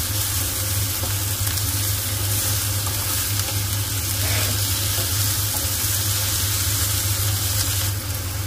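Tomatoes cooking down in a pan while being stirred, a loud, steady close sizzle with faint scraping underneath, continuous throughout.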